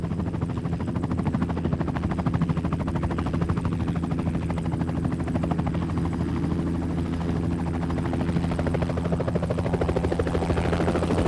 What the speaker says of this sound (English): The helicopters can hover close to the ground, survey and double-check any questionable areas.